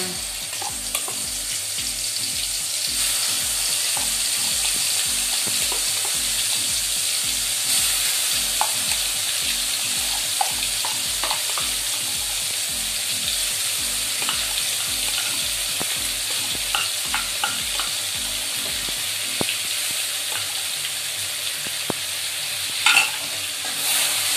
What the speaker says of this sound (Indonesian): Setelah selesai menggoreng asin, lanjut saya akan menumis bumbunya